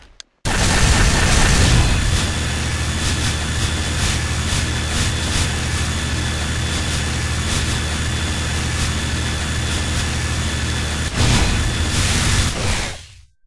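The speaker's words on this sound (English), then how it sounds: "we should be able to shoot it and it'll crack" A destructible wall breaking apart under gunfire in Unreal Development Kit: a loud, sustained roar of rumbling, crumbling debris and bursts lasting many seconds, cutting off abruptly at the end.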